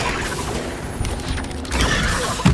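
An Incendio fire spell is cast in the video game Hogwarts Legacy, giving a dense, continuous crackling, rumbling burst of combat effects that swells near the end, with a sharp thump at the close.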